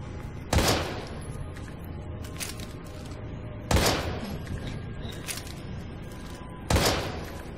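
Three evenly spaced gunshots ring out in the survival horror video game Daymare 1998, each a sharp loud blast with a short decay over a steady low ambient background.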